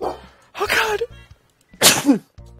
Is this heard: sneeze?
yes